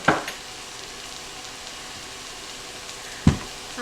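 Onions sizzle and fry steadily in a pan, a continuous close crackle, with a brief utensil clatter at the start and another near the end.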